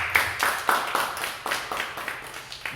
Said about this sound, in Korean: 다시 박수 한번 주겠습니다.